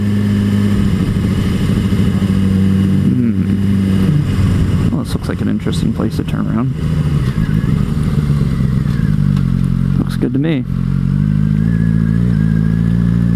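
A Suzuki GSX-R600 motorcycle engine hums steadily while riding, with a few brief revs midway and near the end, heard under someone talking for most of the ride.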